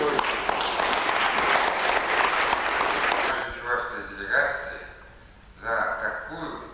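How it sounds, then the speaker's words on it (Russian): An audience applauds a visiting cosmonaut and his delegation at a welcoming event in Bashkortostan. The clapping is dense and sustained for about three seconds, then gives way to someone speaking at the microphone. "за теплые аплодисменты"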